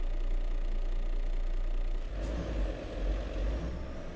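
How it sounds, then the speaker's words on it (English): A Freightliner Cascadia truck engine in American Truck Simulator rumbles steadily, with a sharp hiss of air brakes partway through and a rising turbo whine afterward. "Turbo sounds good."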